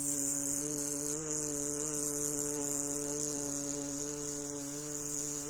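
A steady, unbroken hum held by a human voice with lips closed, imitating a bee's buzz in a bee-breath breathing exercise; rich and even for several seconds, with no talk.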